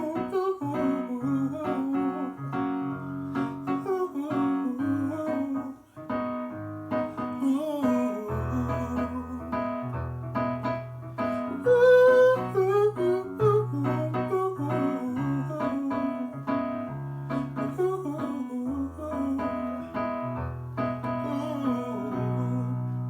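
One melody played twice, first over the chord progression of one song and then over that of another, with steady accompaniment and a bass line underneath, continuous and instrumental throughout.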